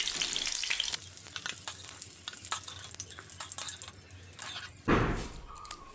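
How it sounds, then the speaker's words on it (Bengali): Steamed cauliflower pieces fried in hot oil in a pan give a continuous crackling sizzle with metallic clinks from stirring, ending in a louder spattering surge near the end, with no voices. "তো এখানে আগে থেকে ফুলকপি ভাপানো ছিল, তো ফুলকপিগুলোও ভেজে নিচ্ছি।"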